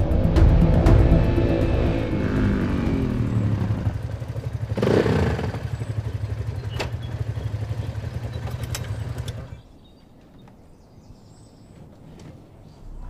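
A motorcycle engine runs close by with a steady low rumble and a brief louder surge of revving near the middle, then cuts off abruptly, leaving a quiet background.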